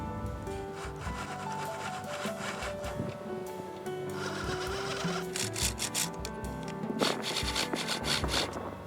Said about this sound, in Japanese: 穴を開けるのに使うのはステップドリルを使います。